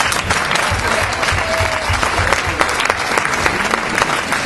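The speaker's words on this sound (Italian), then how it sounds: "Io farei anche un applauso a chi fa le domande." Sustained, loud applause from an audience at a municipal election public debate in Sant'Elpidio a Mare, a continuous dense wash of clapping from a full room with crowd murmur beneath.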